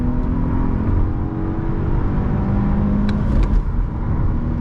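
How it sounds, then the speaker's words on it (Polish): A 2000 Mercedes E280 W210 sedan engine drones steadily as the car accelerates hard at speed, a loud sustained interior roar with rising pitch and faint rattles, no talking. "trochę musi mieć obrotów ten silnik i ciśniemy 100-200"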